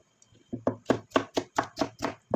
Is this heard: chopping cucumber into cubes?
yes